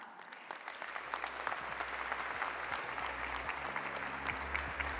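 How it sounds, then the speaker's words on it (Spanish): An audience at a social entrepreneurship award event applauds for Cristina Balbás, a dense and steady round of clapping that holds at full strength from start to finish. "un fuerte aplauso para Cristina Balbás"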